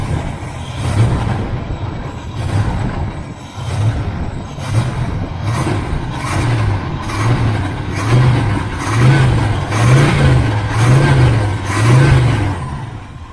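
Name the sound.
1976 El Camino engine running after 4-barrel carb swap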